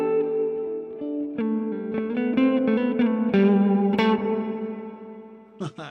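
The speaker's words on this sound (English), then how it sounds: "Plate's one of my favourite reverb sounds." An electric guitar played through the plate reverb setting of a Mvave Mini Universe pedal, a run of picked notes and chords blooming into a lush, lingering wash of reverb tails, ending with a brief clatter.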